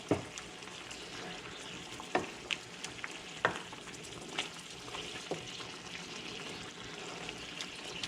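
Chicken livers sizzle and fry steadily in a pan for pâté, with a constant close crackle and a few sharper stirring knocks and scrapes scattered through.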